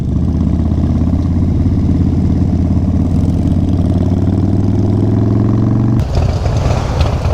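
A Harley-Davidson motorcycle engine runs loud and close with a deep, steady throb, then shifts sharply near the end as the engine note changes.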